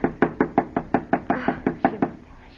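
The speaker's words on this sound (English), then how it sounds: "Knock harder, Alice." A steady run of about a dozen hard, evenly spaced knocks on a house door, close and loud with no talking, in a Halloween horror radio drama.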